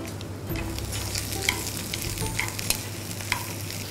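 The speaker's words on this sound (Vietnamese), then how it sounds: "Bây giờ mình sẽ xào hết nấm lên." Mushrooms are stir-fried in shallot oil for a vegetarian hủ tiếu noodle soup, producing a continuous sizzle with scattered clicks and scrapes of a utensil against the pan over a low background hum, with no talking.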